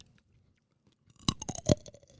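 A single roasted-style almond crunched up close after a near-silent pause, giving a quick burst of loud, crisp chewing crunches that taper off.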